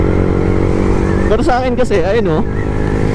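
A Yamaha MT-15 motorcycle engine runs at a steady, buzzing note close by throughout, while someone talks over it.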